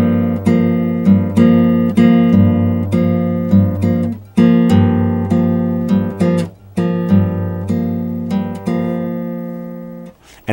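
Bossa nova rhythm strummed on a guitar, the first note of the pattern pushed back a sixteenth, repeating in steady syncopated chord hits with a sustained bass line underneath, close and clear with no talking.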